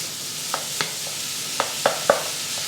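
Pieces of veal for a Zurich-style sauté sweat in a pan, giving a soft hiss broken by five or six sharp clinks and scrapes of stirring, close up with no talking.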